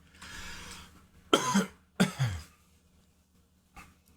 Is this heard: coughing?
yes